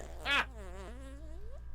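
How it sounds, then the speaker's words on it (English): A whoopee cushion lets out one short, raspy fart-like burst up close, followed by a wavering, moaning tone. "whoopee cushion, really?"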